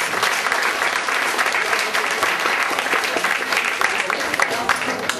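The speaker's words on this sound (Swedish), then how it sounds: "Hon ska ha mer applåder för självfallet." Steady audience applause after a song at a live Swedish dance-band show, dense continuous clapping filling the whole stretch with no pauses.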